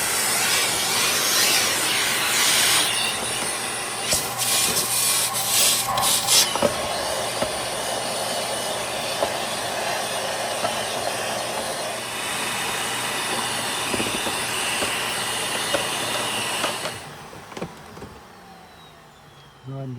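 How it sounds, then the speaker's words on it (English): A vacuum cleaner sucks hair out of a clogged Shark Navigator ZU651 upright: a loud, close, continuous roaring whoosh with rattling bursts as debris passes through, running steadily before cutting off near the end. "I'm going to vacuum this out because this is pretty gross."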